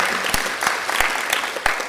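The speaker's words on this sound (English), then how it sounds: "It's a good round of applause for everyone again." Conference audience at a border-control and inspection-systems session gives a steady round of applause, dense continuous clapping from a crowd, fairly close and loud throughout.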